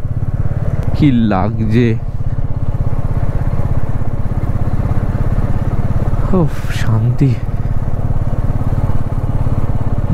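A Royal Enfield Meteor 350 motorcycle rides a mountain road through pine forest in the Darjeeling hills. Its engine drones steadily and loudly throughout, while a rider's voice speaks over it a couple of times.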